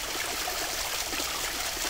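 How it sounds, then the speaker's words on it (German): A small brook in the Wolkensteiner Schweiz, flowing toward the Zschopau river, babbles and trickles steadily at close range, a continuous bright rush of water with no voices. "dieses kleine Bächleinchen hier mündet jetzt in die Zschopau"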